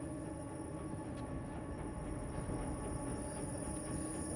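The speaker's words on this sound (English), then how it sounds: "There's a train in the background," Train rumbling past in the background of the video game INSIDE, a continuous low rolling clatter of railcars with a faint high whine, steady and fairly quiet with no speech.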